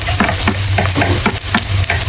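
Garlic sautés in a pan of oil while being stirred, a close, loud sizzle with repeated scraping strokes of the utensil every fraction of a second.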